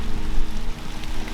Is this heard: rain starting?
yes